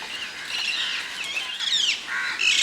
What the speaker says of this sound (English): So many parrots on that one stump.